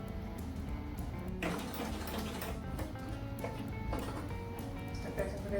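A beginner's first sewing machine runs with the presser foot down. Soft, steady mechanical whirring comes in short bursts with light clicks, fairly quiet and close, with a voice faintly present.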